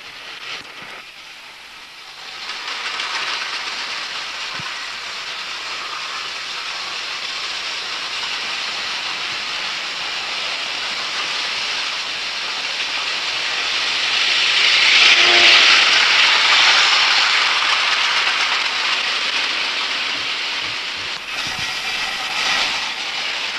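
Model railway locomotive of the Mallard pulling old LNER carriages, a steady loud rushing hiss of wheels and running lasting throughout, swelling briefly louder mid-way before easing back.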